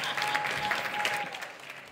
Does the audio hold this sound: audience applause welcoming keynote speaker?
yes